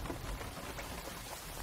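Steady rainfall in the stealth action video game Metal Gear Solid Delta: Snake Eater, a soft continuous hiss of drops pattering on surfaces, fairly quiet and even, with no voices.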